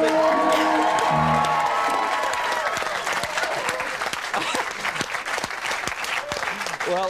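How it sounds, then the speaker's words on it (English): Audience at a university campus event breaks into loud, sustained applause with scattered cheers and whoops, close and dense throughout, with a few voices audible early on. "I think a round of applause before we even see who that is"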